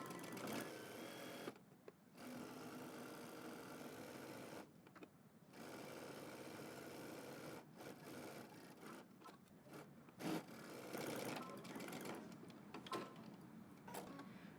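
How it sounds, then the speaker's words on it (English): A sewing machine back-stitching a dress seam at a 5/8-inch allowance runs in steady whirring bursts, stopping briefly several times between runs, close up with no talking. "5/8 of an inch seam allowance, back stitch."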